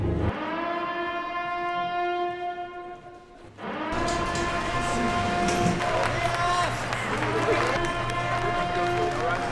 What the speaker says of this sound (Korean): 이윽고 살인축제의 끝을 알리는 사이렌이 울리며